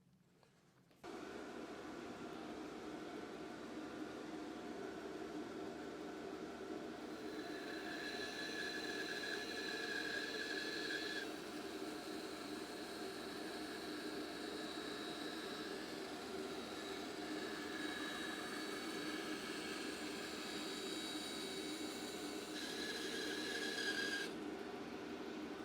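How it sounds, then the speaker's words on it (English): A bandsaw fitted with a skinny blade cuts through wood for a box, a steady loud machine whine and hum that starts abruptly and runs unbroken, with a brighter cutting tone in the middle stretch. "It's the safest way is to do it on the bandsaw."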